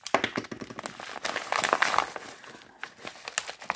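Parcel holding a telescopic antenna being unwrapped by hand, with crinkly packaging crumpling, tapping and rustling in close, irregular bursts throughout.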